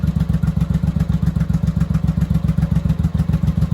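A 1983 Honda Shadow VT motorcycle idles on partial choke with new spark plugs, its engine thumping in a steady, even, loud rhythm up close with no break.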